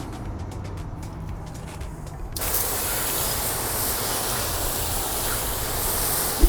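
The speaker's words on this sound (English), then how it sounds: "rinsing the wheel first with some free-flowing water" A steady hiss of water spraying onto a car wheel starts abruptly after a low mechanical hum and continues loud and unbroken.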